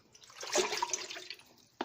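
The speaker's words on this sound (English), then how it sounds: "So I'm going to take like half a liter of plain water, cold," Cold plain water pours in a steady, fairly faint stream for a pork brine in a kitchen, ending with a brief splash.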